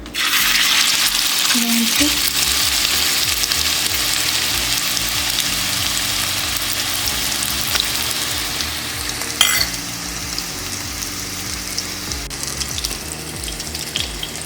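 Chapli kabab patties sizzle and fry steadily in hot oil in a pan, a continuous loud crackling hiss with a brief clatter partway through, no talking.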